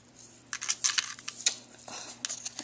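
Jewelry chain cut for earrings: a quick run of small, crisp metallic snips and clicks from close up, sounding as a scattered series of light taps with no talking.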